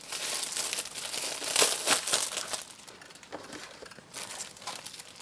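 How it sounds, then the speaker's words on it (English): Plastic shrink wrap crinkling and tearing as a Warhammer 40K Shadowspear box set is unwrapped, close and continuous with louder bursts of crumpling. "we'll just unwrap this and see"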